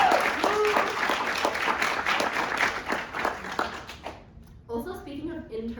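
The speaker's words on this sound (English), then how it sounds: "Everybody clap for them." An audience at a campus State of the Campus speech applauds the interns, a dense burst of clapping from many hands that fades after about four seconds, followed by a speaker's voice resuming.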